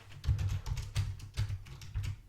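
Keys clack on a computer keyboard in a quick, uneven run of about half a dozen close, crisp taps in a quiet room.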